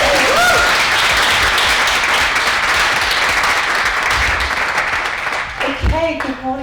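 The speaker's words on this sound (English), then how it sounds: "give her a round of applause" An audience claps to welcome someone speaker onto the stage at a Bitcoin talk, a steady wash of many hands applauding, easing off as a voice begins speaking at the end.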